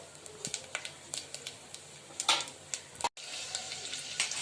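Garlic cloves frying in a small amount of tempering oil with mustard seeds and cumin for dal, a steady low sizzle with scattered crackles and pops, close up and alone.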